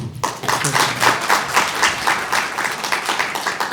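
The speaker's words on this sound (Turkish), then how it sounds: "Öncelikle bir onları alkışlamanızı istiyorum." An audience at a municipal education project signing ceremony claps warmly after a brief low sound at the start, producing dense, lively applause with rapid individual claps that stays strong and close throughout.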